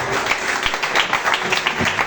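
Congregation clapping hands in praise during a church service, a steady, moderately loud patter of many hands with faint voices beneath.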